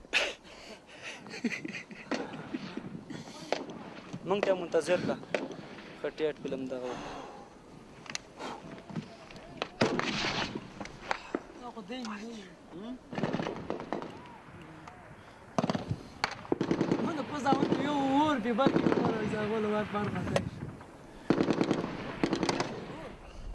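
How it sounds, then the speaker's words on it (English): Gunfire during a Taliban attack on British troops in Afghanistan crackles in repeated bursts and single shots, some near and some distant, mixed with shouting and talk throughout. "Every time we think it's okay, we come under fire."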